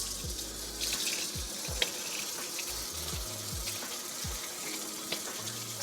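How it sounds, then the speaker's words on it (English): A houseplant is rinsed under running water from a tap, a steady close splashing flow with a few brief knocks and bumps, without talk. "I'm just going to give her a little rinse off."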